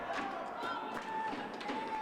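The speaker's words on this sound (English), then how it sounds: "Crowd is into it now." Steady crowd noise fills a women's college basketball gym during Brookdale versus Sussex County Community College. Fans cheer and murmur continuously at moderate loudness, with a commentator speaking over it and a few faint squeaks and thuds from play.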